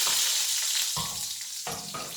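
Bacon frying in a pan with a dense, continuous crackling sizzle, close and fairly loud, broken by a couple of soft clunks as it is stirred; no one speaks.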